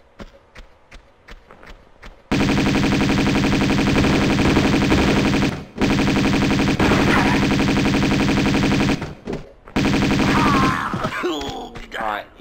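Sustained Uzi fire in the Tomb Raider II remastered game, at the Tibetan Foothills, during a fight with a mercenary: long loud bursts of rapid automatic shots, briefly broken by pauses, ending with a grunt and scuffling.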